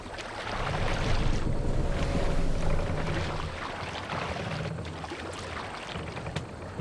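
A ship under sail pushes through rough waves in a strong wind in the video game Assassin's Creed Valhalla, with a steady, full wash of water and gusty wind rumble that swells early, then eases slightly.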